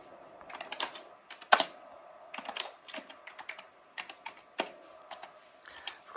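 Typing on a computer keyboard attached to a 1991 AMI Series 39 486 machine, a quick irregular stream of clicky keystrokes with brief pauses, close and fairly quiet.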